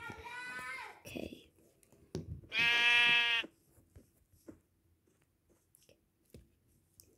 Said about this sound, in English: Ooh, I found a black sheep too.